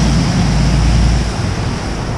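A waterfall at Dungeon Creek in Banff National Park gives a loud, constant roar of rushing water, dense and steady with a deep rumble, close by and with no voice.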